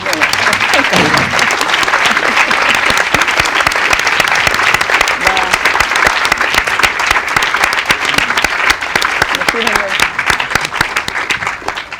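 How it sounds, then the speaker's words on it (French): Loud, dense applause fills a cinema audience after a film screening at L'Espace Saint Michel, with steady crowd clapping that continues throughout. "J'aimerais que toutes et tous vous applaudissiez très fort Anne-Marie parce qu'elle a été vraiment..."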